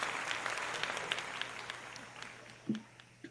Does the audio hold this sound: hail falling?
no